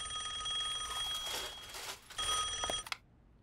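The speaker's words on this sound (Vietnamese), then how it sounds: "con có thể nghe điện thoại giúp mẹ được không?" In a cartoon, a telephone rings with a bright electronic trill in two bursts separated by a short gap, with some faint background sound mixed in before the ringing stops.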